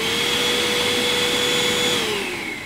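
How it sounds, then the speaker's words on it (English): A VAX Blade 32V cordless vacuum cleaner running with a steady high-pitched motor whine and airy rush, loud and close, alone, winding down slightly at the end. "I'm going to actually start it going just so you can hear the noise that it produces."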